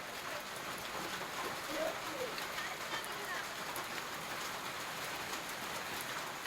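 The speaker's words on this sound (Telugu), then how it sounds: "ఇక పెద్దపల్లి జిల్లాలో కూడా భారీ వర్షం కురిసింది" Heavy rain falls in Peddapalli district, Telangana, a steady, even hiss of drops on surfaces, heard faintly and at a distance without break.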